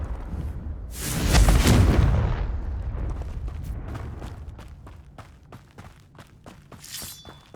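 A Confringo explosive spell in the game Hogwarts Legacy goes off as a loud, booming blast that rolls away over a couple of seconds. A run of sharp crackling pops follows, with no talk.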